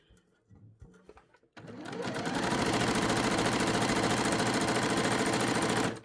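A sewing machine runs in a fast, steady straight stitch along an organza skirt layer, starting abruptly after a few quiet handling sounds and continuing loud and close to the end.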